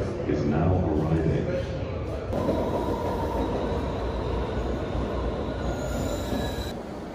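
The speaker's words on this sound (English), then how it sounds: "the next red line train to Alewife is now arriving" A Red Line subway train bound for Alewife rolls into a station, a steady heavy rumble with faint wheel squeal, loud and close throughout.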